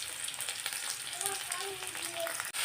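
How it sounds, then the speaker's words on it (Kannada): Garlic, onion, curry leaves and chillies fry in hot oil for a bean curry, a soft steady sizzle heard close with faint stirring, no talk. "ಈಗ ಸ್ವಲ್ಪ ಫ್ರೈ ಮಾಡ್ಕೊಂಬಿಡೋಣ ಬನ್ನಿ."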